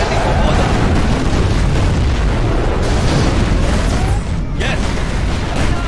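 A nuclear missile detonation in the strategy game C&C Generals Zero Hour, a loud, sustained roaring rumble that fills the whole clip with heavy low-end boom, briefly dipping near the end before surging again.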